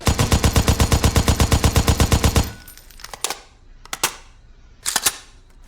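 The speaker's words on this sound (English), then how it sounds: "all these are just going to be a mag dump to see what kind of climb and dispersion you have on the rounds" A SCAR-H rifle empties a magazine on full auto, a rapid loud string of about twenty shots, then a few separate metallic clunks and handling noises follow.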